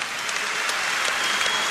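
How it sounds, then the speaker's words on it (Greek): Warm applause from a crowd at a Greek basketball event for coach Panagiotis Giannakis, a dense, steady clapping that fills the space evenly. "Θερμό χειροκρότημα από όλους για τον Παναγιώτη Γιαννάκη."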